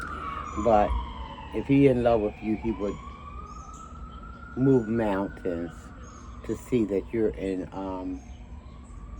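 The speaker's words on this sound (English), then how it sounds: "And y'all hear that siren, please pardon that noise." A police siren passes outdoors, its long wavering wail rising and falling steadily behind someone talking close by throughout.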